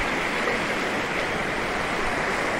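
Steady, loud rush of cold water flowing at Ambewadi waterfall as people wade through it, a dense, continuous broadband wash with no voices standing out.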